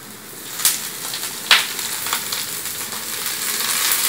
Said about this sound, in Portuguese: Agora eu vou jogar essa couve aqui, nesse refogado.